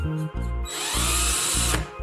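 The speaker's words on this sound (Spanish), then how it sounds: "Usa este taladro improvisado para ensanchar la parte superior del agujero." A makeshift drill made from three thin bits of the same diameter, tied together with a cable tie, whines steadily as it widens the top of a screw hole in wood, running in short bursts with brief pauses between.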